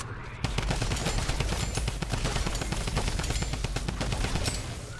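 Rapid, continuous automatic gunfire from a drum gun in a video game horde rush mode, dense bursts of shots rattling nonstop at close range over a low background hum.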